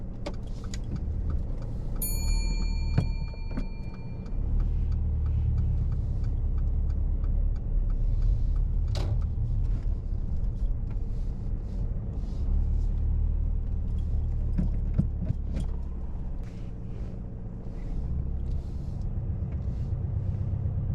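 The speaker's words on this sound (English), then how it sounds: "start alongside the vehicle in the road, then reverse back and finish within 2 car lengths" A car reverses slowly along a road during a parallel parking exercise, giving a steady, close low engine rumble that runs throughout with a few faint clicks and ticks above it.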